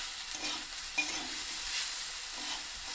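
Vegetables and half-boiled potatoes fry in a pan for a quick sabzi, giving a steady close sizzle with a few soft stirring scrapes and no voices.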